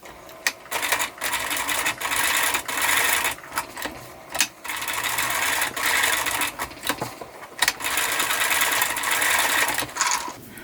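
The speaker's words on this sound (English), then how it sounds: "Now you're going to sew with black thread, and you're going to sew around each of these face shapes just to secure it" A sewing machine stitches fabric with black thread, running in repeated close bursts of fast mechanical whirring separated by brief pauses, with no voice over it.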